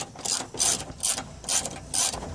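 A hand ratchet loosens 10 mm bolts on the hood latch of a 2000 Dodge Dakota, producing five quick, evenly spaced bursts of close, crisp clicking.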